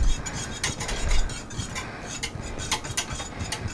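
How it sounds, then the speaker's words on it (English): A whisk scrapes steadily around a pot of mixture on medium heat, a continuous close metallic stirring with small clinks, no voices. "We're just going to constantly whisk it for about 4 to 5 minutes."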